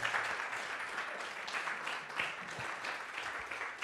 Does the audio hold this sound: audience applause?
yes